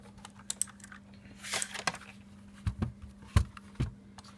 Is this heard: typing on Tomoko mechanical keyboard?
yes